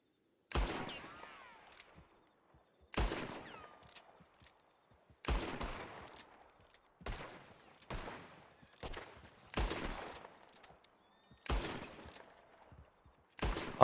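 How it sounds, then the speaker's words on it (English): Gunshots crack out in a Red Dead Redemption roleplay server, repeated sharp volleys of several rapid shots each, spaced every second or two, with echoing tails across open ground. "Well, I've successfully shot 50 bullets"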